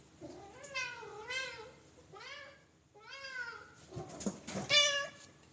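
A cat meows several times close by in drawn-out, rising and falling calls, ending with a sharper high meow amid faint rustling.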